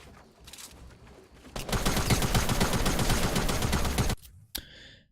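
Rapid automatic gunfire in Fortnite, a sustained loud burst of shots lasting a couple of seconds, followed by a single sharp shot.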